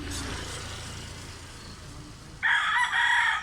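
A Limon-bloodline gamecock, about two years old, crows loudly and clearly, its call rising out of a quieter background of low rustling noise near the end.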